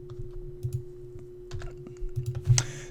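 Numbers are tapped into a calculator: soft, quick plastic key presses in an irregular run of a dozen or so taps, close and quiet over a faint steady hum, with no talking.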